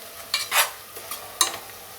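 Green chicken pulao masala with a pinch of garam masala being stirred in a pan, giving a few short scraping, sizzling strokes spaced over two seconds, fairly faint and close with no talking.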